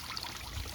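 Water from a backyard pond waterfall fed by a 300 GPH pump trickles and splashes, a faint, continuous rushing wash with no voices.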